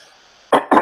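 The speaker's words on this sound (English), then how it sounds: "Pardon my cough here." Two sharp coughs close together near the end, following a stretch of quiet background hiss.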